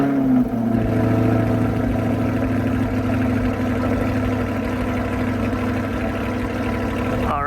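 A Chevrolet C8 Corvette V8 fires up from cold and settles into a loud, steady idle, its deep, even engine rumble holding close and constant throughout with a slight dip at the start.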